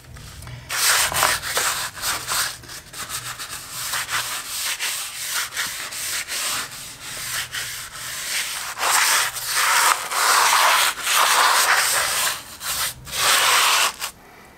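A brush scrubs foamy fireplace stones in quick, rhythmic rasping strokes, close and fairly loud, with brief pauses between bursts.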